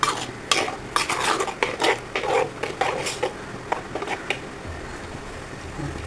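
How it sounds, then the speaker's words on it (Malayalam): A spoon stirs fish curry (ayala, mackerel) in a pot, giving a run of quick metallic scrapes and clinks against the vessel, fairly close and steady, with a faint sizzle beneath and no talk. "സ്പൂൺ ഇളക്കി കൊടുക്കാം."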